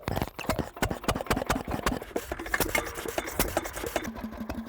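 A small internal combustion engine runs at a steam rally, firing in a quick, regular chuffing beat with sharp, close pulses that stay steady and fairly loud throughout.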